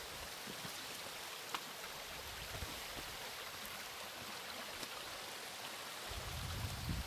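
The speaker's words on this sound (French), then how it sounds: "Là il y a une petite rivière." A small mountain river flows in a steady, continuous wash of water, with no talk.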